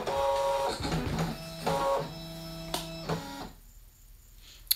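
A Brother DesignNCut cutting machine loading material, close whirring motor runs with mechanical clicks and stepped pitch changes, then falling quiet with a final click.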